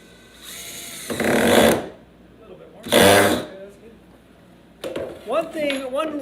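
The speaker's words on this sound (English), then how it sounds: "One quick tip on using the drill is you're going to want to go slow on the trigger." A power drill drives screws into plywood for a birdhouse build, two separate whirring bursts of about a second each, followed by people talking.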